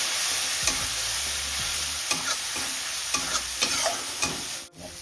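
Spices sizzle in a cooking pan while a utensil stirs them, with several distinct scraping strokes over a steady frying hiss, up close and without talk, ending in a short drop.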